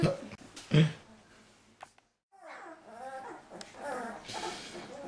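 Five-week-old puppies whimper and yip at close range in short, high, wavering cries separated by pauses, with quiet background sounds.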